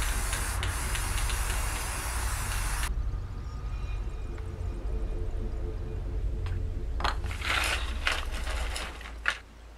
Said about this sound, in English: I first started by priming everything with a reddish-brown spray paint